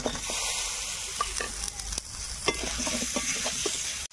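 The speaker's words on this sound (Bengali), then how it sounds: "আমটাকে সুন্দর কষে নিয়েছি" Raw mango pieces frying with turmeric and spices in a village-style kitchen pan: a continuous close sizzle with scattered stirring scrapes and light clatter, no talking.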